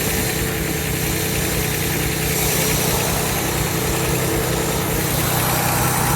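An AH3000 car engine idles while warming up: a loud, steady, continuous rumble and drone with no change in pitch or rhythm and no voices.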